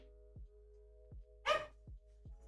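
A dog barks once, a short, sharp burst from across a quiet room during a keyboard-building session with a cat nearby. It rises above a steady low hum and a few soft clicks.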